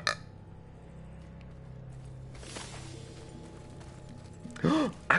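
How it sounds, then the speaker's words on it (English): A single loud burp erupts near the end of a scene in God of War. It is short and throaty and rises out of quiet, low in-game ambience. "Let's celebrate with a burp."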